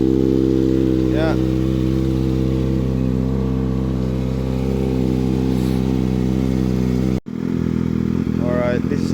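A warmed-up 2020 Kawasaki Ninja ZX6R fitted with an M4 exhaust idles loud and close, a steady deep drone that cuts briefly near the end and then resumes.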